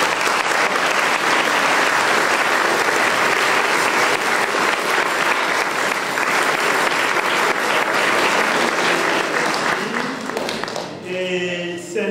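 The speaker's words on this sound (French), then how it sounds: "nous allons applaudir pour les parents Marie." A church congregation at a confirmation mass in Perbais, Belgium, applauds the parents with steady, dense clapping that lasts about eleven seconds, then tapers off as a voice begins to speak.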